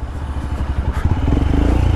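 A 2021 Royal Enfield Himalayan motorcycle rumbles close by while riding, its engine thumping in a steady rhythm with some clatter and wind noise, and no talk.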